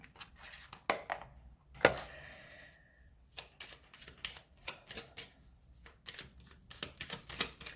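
Oracle cards shuffled up close during a tarot reading, a run of quick, crisp riffling flutters and soft slaps in uneven bursts, fairly quiet with no talking over them.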